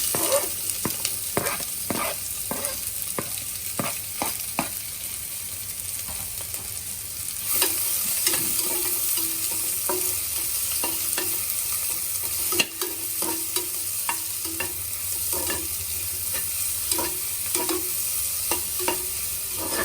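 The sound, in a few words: chopped onions frying in a pan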